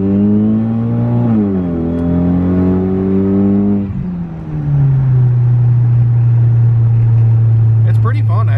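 A tuned turbocharged car engine running about 20 pounds of boost, with a somewhat worn turbo, revs up, holds, drops briefly, then settles into a loud, steady drone close by.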